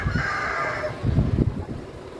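A rooster crows once in a drawn-out call, followed by lower clucking and scratchy farmyard noise, fairly close and moderately loud.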